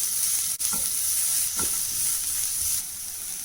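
Onions sauté in a pan as filling for tandoori crispy chicken momos, giving a steady close sizzle and hiss. A few soft scraping stirs break through it and no one speaks.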